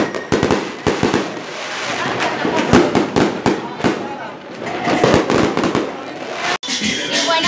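Fireworks and firecrackers go off on Christmas Eve in Lima, a dense run of sharp cracks and booms at varying distances, with someone talking over them.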